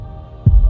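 Heartbeat sound effect: a deep, loud, close thump followed quickly by a second, softer beat over a faint low hum.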